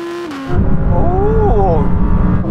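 Several Audi R8 sports cars, including a GT and a Spyder, accelerate hard from 50 mph in a rolling drag race, a loud continuous engine roar with rising pitch sweeps through the gears.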